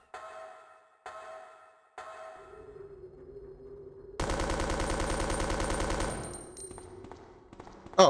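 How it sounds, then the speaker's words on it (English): Full-auto machine gun fire in Resident Evil 2 (1998), coming as a dense sustained burst of about two seconds, preceded by a few isolated clanks and a low hum and followed by fading game ambience. "Ready to shoot all these roaches up here."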